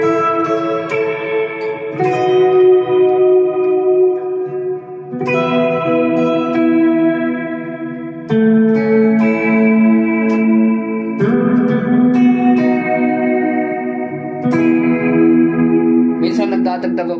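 Electric guitar played through a Mvave Tank G pedal with shimmer reverb and delay: loud sustained chords and notes that ring out with octave-up shimmer and echo tails, changing every few seconds, and no voice over them.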